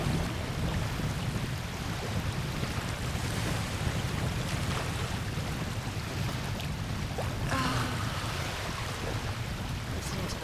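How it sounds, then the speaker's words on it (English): Waves rolling in on a Lake Ontario shore, a continuous soft wash of surf with wind noise, steady and moderately distant with no voices. "waves rolling, so relaxing."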